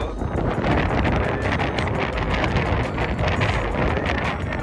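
Strong wind roars and buffets the microphone continuously at a fair in Kuwait, a loud rumbling gust with no voices heard.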